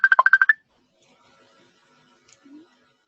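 Incoming call ringing on a computer messenger, a rapid burst of about eight short electronic tones lasting half a second, followed by near silence with faint clicks.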